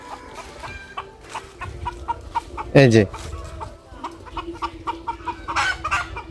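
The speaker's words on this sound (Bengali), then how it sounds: "সে মোরগ দুটো আমি আপনাদের দেখানোর আবারও চেষ্টা করব" Native roosters on a farm cluck in short, repeated bursts, and one loud crow rings out midway. Someone briefly speaks close by between the calls.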